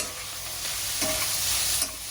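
Green chillies and cashews frying in oil for a dum aloo masala curry, a steady close hiss and sizzle with a slight stirring rustle and no talk.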